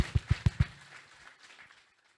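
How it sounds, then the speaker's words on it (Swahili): An audience applauds a governor with four sharp, loud claps in quick succession, then a scattering of faint, thinning claps that fade out. "Makofi kwa governor kwa hiyo yote."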